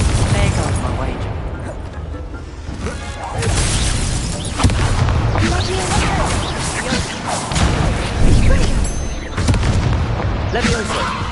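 A fiery Confringo blast spell in Hogwarts Legacy bursts with booming impacts amid busy game effects and music, several heavy hits spread across the stretch, with a voice talking over parts of it.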